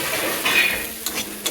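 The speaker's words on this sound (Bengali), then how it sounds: "তাই একটু ঢাড়সটা একটু নেড়ে দিচ্ছি ভাজাটা" Okra frying in a pan while being stirred, a soft hissing sizzle with a few light scraping and clinking touches of a utensil, close and faint.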